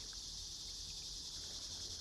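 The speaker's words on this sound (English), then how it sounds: "They usually aren't here this late in the season, the cicadas." Cicadas buzz by the Verde River in Arizona late in the season, a continuous high, even drone held at a faint, distant level with no talking.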